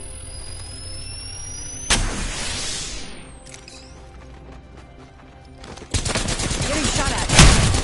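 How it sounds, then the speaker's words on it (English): Video game gunfire crackles in loud bursts, with one sharp volley near two seconds, a quieter gap, then a sustained rattling fusillade in the final seconds, close and alone without talk. "Getting shot at."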